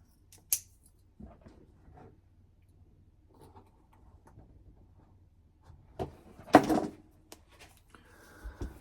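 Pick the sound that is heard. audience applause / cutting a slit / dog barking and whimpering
cutting a slit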